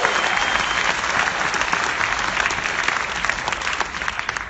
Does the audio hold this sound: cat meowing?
no